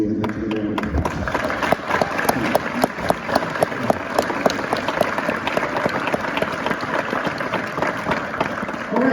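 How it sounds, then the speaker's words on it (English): A lecture audience breaks into a round of applause, a sustained wash of many hands clapping with distinct individual claps audible throughout, close and fairly loud. "I'd like to give a round of applause."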